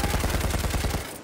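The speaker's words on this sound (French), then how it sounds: "Bah, je tire sur des cadavres." Rapid automatic gunfire in the shooter game Battlefield 1, a dense burst of shots fired in fast rhythm at close range, loud and alone before cutting off abruptly.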